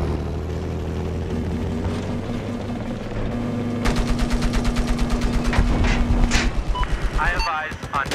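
An enemy helicopter in a military video game starts with a rumbling engine drone. A fast, even rotor-like chopping pulse then rises, mixed with bursts of gunfire and a few electronic chirps near the end.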